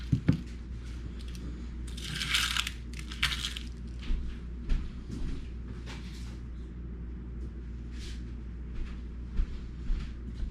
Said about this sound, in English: so to finish dicing my onion, I've kept that root end intact the entire time